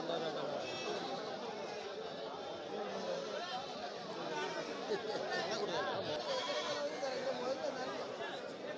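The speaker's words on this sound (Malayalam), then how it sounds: "ഇവിടെയും കുറച്ച് ആടുകൾ വാങ്ങി മാറ്റി കെട്ടിയിരിക്കുകയാണ്" Goats at the Kilimanoor goat market in Kerala bleat repeatedly amid a steady din of crowd chatter, with calls overlapping near and far throughout.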